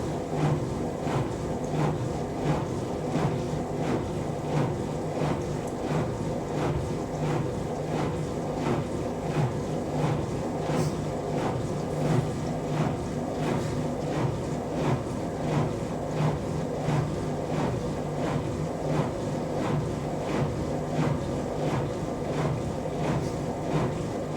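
A Zanussi Lindo 1000 ZWD71463NW washer dryer runs a cotton auto-dry cycle, a steady droning hum with a regular rhythmic chugging of the tumbling drum, continuous and close.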